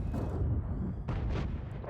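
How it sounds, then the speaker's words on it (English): An artillery shell lands in World of Tanks gameplay, a heavy low rumbling blast with a dull secondary boom a second later, loud and close. "I just walked into the artillery shell."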